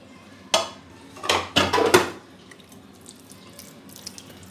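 Marinated minced keema being mixed in a dish, heard as a few wet, clattering bursts of utensil against the dish in quick succession, then quiet with faint scattered clicks.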